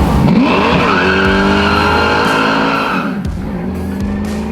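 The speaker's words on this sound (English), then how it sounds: "You really got to get into it to get the tires to break loose." A NASCAR-powered V8 Camaro with straight-cut gears roars loudly as its tires break loose and squeal in a long, continuous screech, engine pitch sweeping up and down before easing off near the end.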